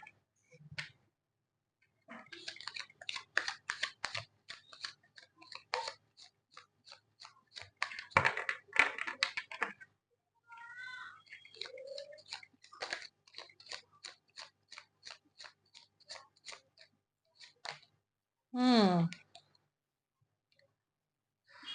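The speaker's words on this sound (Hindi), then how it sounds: "जब तक मैं कार्ड शफल कर रही हूँ, आप अपना फोकस बना के रखें।" A deck of tarot cards shuffled by hand, giving bursts of crisp, rapid papery clicks and riffles with short pauses between, close and moderately loud, with no talking.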